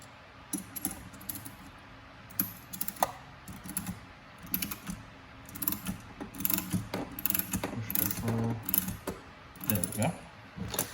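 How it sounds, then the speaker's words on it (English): A shaft puller works on a golf club during a club rebuild, giving quiet clustered mechanical clicks and ratcheting taps in short bursts across the clip, close by with little talk. "we're actually going to use the shaft puller in the right direction again"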